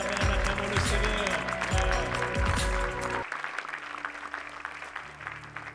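A church congregation applauds as music plays, dense clapping over a rhythmic band with strong bass beats, before the music cuts out and scattered clapping and crowd noise fade at a distance.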